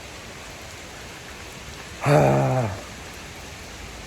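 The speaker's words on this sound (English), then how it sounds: "was hoping that it would like slow down the rain, but it is not slowing down" Heavy rain falling outdoors as a steady hiss throughout, with a man's short spoken word briefly over it.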